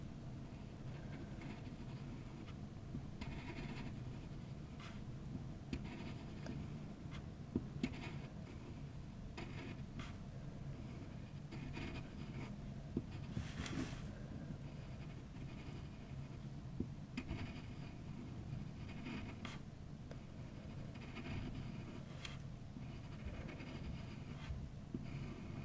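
A graphite pencil scratches over paper during lettering practice, a close, quiet and continuous rasp broken by small taps and stroke changes, with no talking.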